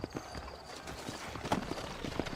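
Horse hooves clip-clopping at a steady walk in the Red Dead Redemption video game, set in New Austin, a rhythmic run of soft hoof strikes close by with no talking.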